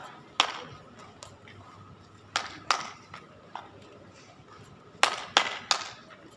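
Group hand claps in short patterned bursts of two and three, sharp and moderately close, with quiet room noise and faint voices between the sets.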